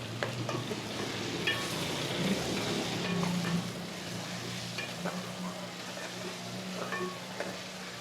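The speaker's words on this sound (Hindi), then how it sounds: "इसी तरह प्याज को भी हल्का सा फ्राई करेंगे।" Finely chopped onions fry in a pan with ginger and garlic, giving a steady sizzle broken by occasional scrapes and stirs of a utensil, close and continuous with no talking.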